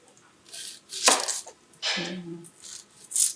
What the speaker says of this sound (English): So cut the top and the bottom off of this, the ends off.